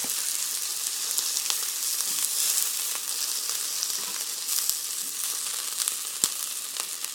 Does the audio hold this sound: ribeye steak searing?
yes